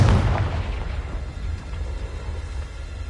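A Confringo blasting spell goes off in Hogwarts Legacy, a loud low boom right at the start that rolls into a rumbling tail and fades slowly over a few seconds, with no voices.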